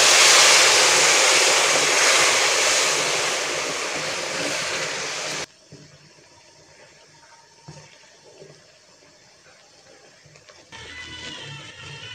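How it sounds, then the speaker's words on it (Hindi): Loud rushing pour of hot water into a pan of roasted semolina for halwa, hissing and bubbling for several seconds, then cutting to quieter clinks and faint kitchen noise. "ये देखिए पानी गर्म हो गया, अब ये भी इसमें ऐड कर देंगे।"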